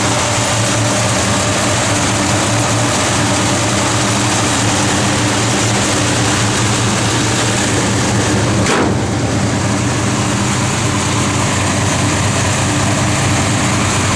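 A 1963 Dodge 330 engine with TTI headers, full exhaust and a Holley fuel pump runs with a loud, steady, close-up rumble throughout, with one brief sharp click partway through.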